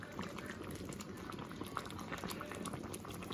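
A pot of curried chicken feet simmers at a steady boil, soft continuous bubbling and popping close by, quiet and even throughout with no voices.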